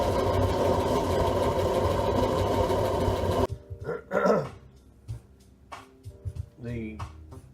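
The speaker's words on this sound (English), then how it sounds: "Put oil in here, light it on fire, blow air, burner works real well." A waste oil pot burner with a blower motor gives a loud, steady roaring rumble nearby for about half the time, then cuts to a much quieter stretch with intermittent voice-like bursts.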